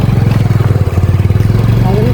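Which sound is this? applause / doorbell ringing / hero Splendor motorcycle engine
hero Splendor motorcycle engine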